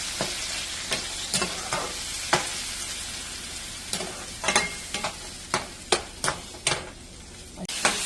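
Chopped tomatoes sauté in a hot pan for a spicy home-cooked curry, a steady oily sizzle broken by sharp, irregular scrapes and taps of a stirring spoon, close and continuous with no voices.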